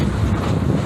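A roller coaster train at Six Flags Over Georgia rattles and rumbles loudly along the track in a brief, dense burst with rushing wind noise.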